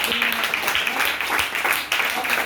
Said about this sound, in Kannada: ಎಲ್ರಿಗೂ ಕೂಡ ಜೋರಾಗಿ ಚಪ್ಪಾಳೆ ತಟ್ಟು